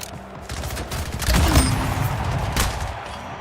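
Shotgun blasts in the video game Splitgate, two sharp loud reports about a second apart over a steady bed of game ambience.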